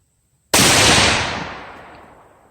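A single loud rifle shot from a Thompson Center Compass firing SIG OTM ammunition cracks sharply out of silence, then rolls off in a long fading echo.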